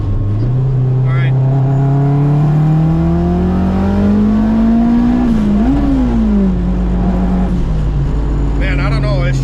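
An all-wheel-drive K-swapped turbocharged Honda Civic pulls hard down a street, its engine note climbing steadily through a long, loud run with a brief dip at a shift before rising again, heard close and continuous.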